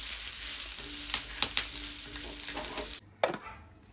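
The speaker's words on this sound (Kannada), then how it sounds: "ಈಗ ಇದನ್ನ ಚಲೋ ಹಂಗ ಫ್ರೈ ಮಾಡ್ಕೊಂಡ್ರಿ" Spice masala frying with fresh curry leaves and coriander, a steady close sizzle broken by a few sharp scraping stirs, then a brief hush near the end before loud stirring resumes; no voices.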